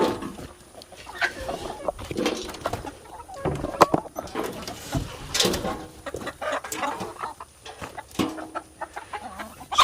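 Several chickens cluck and squawk nearby in irregular bursts, with rustling and scratching sounds mixed in throughout.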